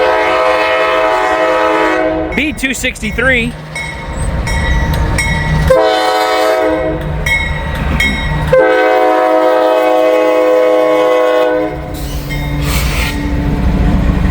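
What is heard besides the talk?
freight train passing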